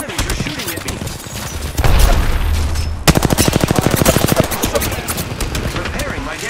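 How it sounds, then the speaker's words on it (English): Enemy gunfire in a shooter video game, rapid bursts of automatic fire with heavy booming impacts, a sustained loud rattling stream in the second half, and a voice talking over the noise. "The enemies are shooting at me."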